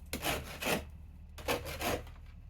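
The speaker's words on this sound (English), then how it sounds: "Take the rasp to that again." Four close, rough rasp strokes scrape across yew bow wood in two pairs, each stroke a brief, breathy rasping rub.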